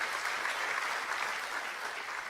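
Church congregation applauding during a pastor's sermon, a steady, fairly close wash of many hands clapping at an even level from start to finish.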